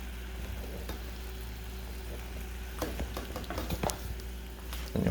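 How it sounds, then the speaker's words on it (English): A spoon stirs sugar solution in a pot on a stove for rock candy, with soft scrapes and occasional light clinks against the pot over a steady low hum. "keep stirring it until the solution becomes clear"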